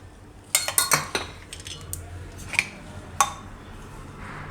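Spoon clinking against a steel bowl while ghee and oil are added to flour for Sindhi koki, a few sharp close metallic taps clustered early, then two more isolated clinks, no talk.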